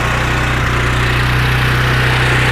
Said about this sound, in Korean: 시동 걸고 악셀레이터를 올려줄게요